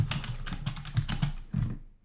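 Quick bursts of keystrokes clatter on a computer keyboard, close and fairly soft, in an uneven rhythm that fades out at the end.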